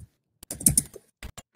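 Keyboard typing in a Minecraft survival session: a brief cluster of close, crisp key clicks, a short pause, then a few more isolated taps, with no talking.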